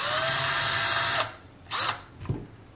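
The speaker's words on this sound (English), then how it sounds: "So we'll just take our drill," A loud electric drill whirs steadily for over a second drilling into a pumpkin, stops, then gives two shorter bursts, nearby with no talking.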